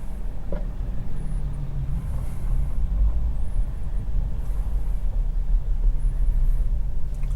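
A Tesla drives slowly on Full Self-Driving through chaotic traffic in light rain, heard as a steady low road rumble and tire noise inside the cabin, with faint passing vehicles and no talking.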